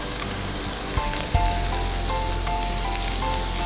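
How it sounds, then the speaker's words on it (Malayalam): Four sliced onions frying in a pan toward golden brown, a steady close crackling sizzle throughout with a couple of soft utensil knocks and a faint tonal hum in the background. "അപ്പോൾ ഈ സവാള നല്ലതായിട്ട് ഗോൾഡൻ ബ്രൗൺ ആകുന്നവരെ മൂക്കണം"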